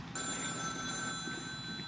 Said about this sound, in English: Hey, answer the phone.